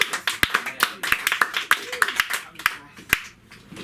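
A small comedy open-mic crowd gives a short round of scattered clapping for a comedian taking the stage, sparse individual claps with a voice speaking briefly over them.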